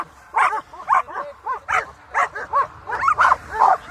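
A dog barks repeatedly in quick, sharp bursts during an early stage of bite-work training. The yips and barks come close and fairly loud, about a dozen in a quick uneven rhythm, with no talking.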